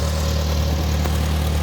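A 1954 Farmall Super C tractor engine runs under load from a hydraulic pump, a steady low idling rumble close by with no talk.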